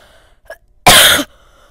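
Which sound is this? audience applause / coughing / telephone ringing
coughing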